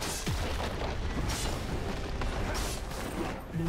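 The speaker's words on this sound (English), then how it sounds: "Blue team's turret has been destroyed." A turret is destroyed in the video game League of Legends, a deep, booming explosion rolling under a continuous dense wash of game effects, with no clear separate peaks.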